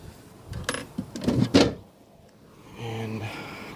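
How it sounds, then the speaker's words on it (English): Wooden drawers being pulled out of a dresser, with a few close scraping and knocking bursts of wood sliding and bumping, followed by a quieter hum. "get these drawers out."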